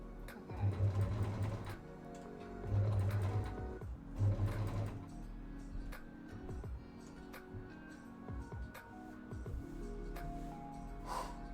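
Domestic sewing machine stitching a dress seam at the presser foot, a soft close whirring that runs in short bursts and steady stretches, with faint breathy noises and no clear talk.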